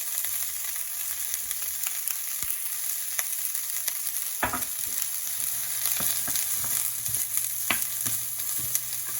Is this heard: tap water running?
no